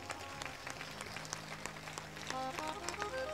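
An audience at a religious discourse claps together for a few seconds. The applause is steady and somewhat distant, with a low hum underneath.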